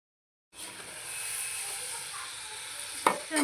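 Modaks dropping into hot oil set off a steady sizzle that starts abruptly and holds at an even level, with a brief clink or stir near the end; no talking.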